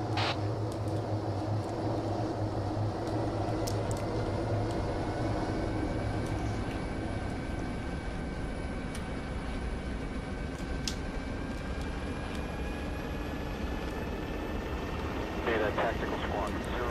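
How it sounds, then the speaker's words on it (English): Helicopter lifting off in a military shooter game, its steady rotor and engine drone holding loud throughout with a slowly rising whine, while a voice speaks over it. "Okay, helo lifting off time now."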